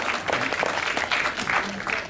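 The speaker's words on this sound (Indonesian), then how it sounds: "Tepuk tangan dulu dong buat Syakil." An audience applauds at a film event. Dense, steady clapping continues through the whole short stretch.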